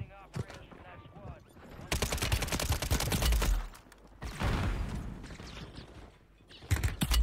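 Weapon fire in Call of Duty on Rebirth Island, a grenade launcher among the guns: two long bursts of rapid, loud shots with mechanical clatter, separated by quieter gaps, and a few sharp reports at the end.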